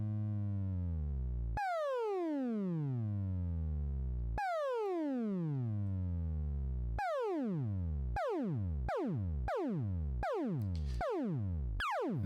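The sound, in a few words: synthesizer oscillator frequency modulation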